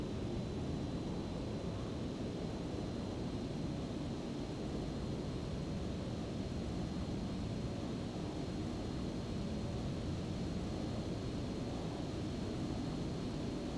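Cessna 208 in Microsoft Flight Simulator X roars through its takeoff run, a steady, loud broadband engine and propeller drone with wind-like rush that holds even throughout, no voices over it.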